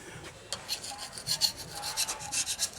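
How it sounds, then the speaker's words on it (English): Old gasket material is scraped off a Ram 3500 part, a close series of short rasping strokes in an uneven rhythm, with no speech. "Just scraping all the old crap off of it."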